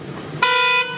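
A car passing on a street gives one loud, close honk of about half a second, bright and steady, after a brief rumble of traffic.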